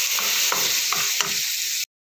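Chopped tomatoes sautéing in a pan for prawn thokku, with a steady dense sizzle and light rhythmic stirring scrapes, cutting off abruptly just before the end.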